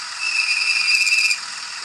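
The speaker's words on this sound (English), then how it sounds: "Brakes," A Fleischmann MRCE model locomotive plays its brake sound effect, a short high-pitched squeal with a hiss beneath it, lasting just over a second before cutting off into faint background hiss.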